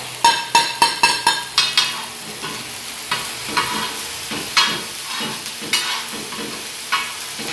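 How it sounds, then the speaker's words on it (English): Cloves, cardamom, cinnamon, bay leaf, turmeric, chili and curd frying together in a pan for goat lung dhobba fry, with a rapid run of spoon scrapes and clinks at first, then slower stirring strokes over a steady close sizzle. "Let them cook all masalas including curd."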